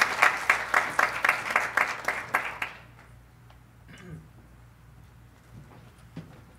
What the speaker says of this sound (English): Please, round of applause for Joseph.